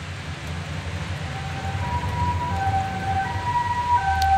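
An ambulance siren in the video game Corpse Party wails as a rising tone that grows louder over a rainy, rumbling background, with no speech.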